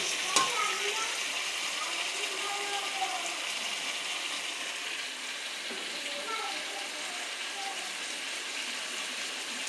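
Potatoes and eggs frying in a pan while being stirred, a steady broadband sizzle running throughout with occasional scraping, and faint background voices and household sounds underneath.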